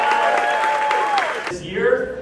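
Audience applauding for a real estate agent, a burst of clapping and crowd noise under a talking voice before it quickly fades out.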